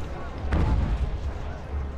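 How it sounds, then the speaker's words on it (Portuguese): Cannon fire in the strategy game Ultimate General: American Revolution, a single booming shot near the middle set against a steady low battle rumble. "Ou deixa o canhão atirando sem problema."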